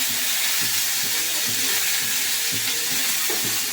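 Chopped raw onions fry in hot oil with panch phoron, a loud continuous sizzle with a regular rhythmic scraping from stirring, close up with no voices.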